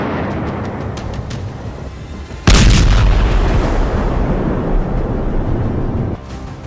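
A heavy bomb blast in Lebanon breaks in suddenly after a low ambient rumble, then rolls on as a loud, sustained roar for several seconds with no voices.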